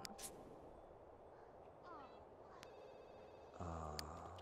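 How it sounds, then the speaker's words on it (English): A telephone rings in The Sims 2 life-simulation game, a bright repeating electronic ring cutting in near the end over a busy background of game sounds and a speaking voice. "Now the phone's ringing."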